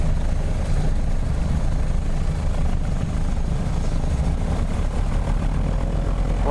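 A Twin Beech (Beech 18) twin-engine propeller aircraft runs at a steady, loud, droning roar on the runway during takeoff, heard up close with no voices over it.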